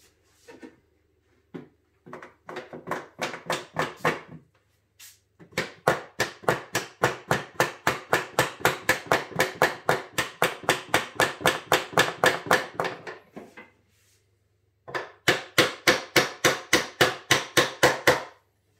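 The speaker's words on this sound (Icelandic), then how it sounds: "Berjum hérna pinnan í." A hammer drives a pin into a wooden window frame with quick, sharp, evenly spaced taps in several long bursts separated by brief pauses, close to the microphone and with no talking.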